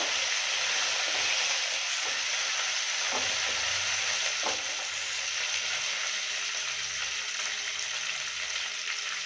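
Upma frying with curry leaves in a pan, a constant hissing sizzle with a few soft scraping stirs, moderately quiet and even throughout, no talking.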